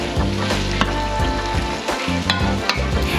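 Cherry tomatoes and tomato paste sizzle loudly in a hot pan, a steady close-up frying crackle with occasional stirring scrapes throughout.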